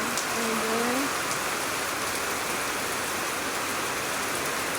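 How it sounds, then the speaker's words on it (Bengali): Heavy rain pours down steadily, a dense, constant hiss close by, with a short voice near the start. "প্রচুর বৃষ্টি হচ্ছে,"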